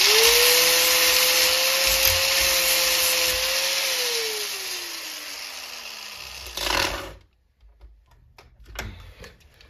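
A flap wheel on an angle grinder whines loudly against a metal part for a build, its pitch steady and then sagging as it bites harder. The grinder then spins down and stops, and faint handling clatter follows.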